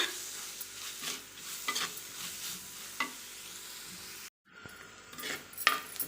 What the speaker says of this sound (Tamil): இப்போ நம்ம வெங்காயம் வந்து இந்த அளவுக்கு நல்லா வதங்கினா போதும்.